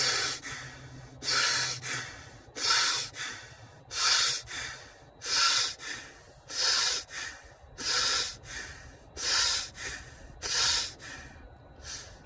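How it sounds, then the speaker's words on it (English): Breath of Fire yogic breathing, a steady series of about ten quick, forceful nasal exhales, each a loud close hissing puff, repeating in an even pump-like rhythm. "basically you're inhaling through your nose and exhaling quickly"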